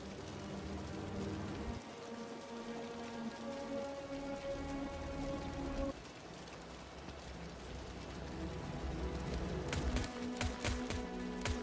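Rain falls steadily in the video game Wuthering Waves, a dense hiss heard alone, joined by sustained musical tones and a burst of sharp pattering near the end.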